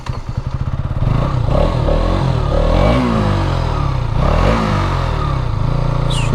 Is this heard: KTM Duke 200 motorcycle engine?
yes